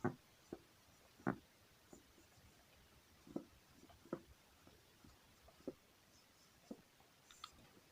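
Marker or chalk strokes on a classroom board while a heading is written, giving a series of faint, scattered scratchy taps with short pauses between strokes, quiet and close with no talking.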